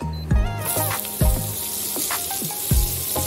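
Hot oil sizzles steadily as onions hit the pan on low heat, with a few sharp clatters of a spoon against metal cutting through the frying hiss.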